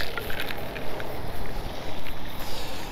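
Gusting wind buffets the microphone outdoors on a winter bass-fishing trip, rising and falling in loud rough bursts with lapping water beneath and no talk.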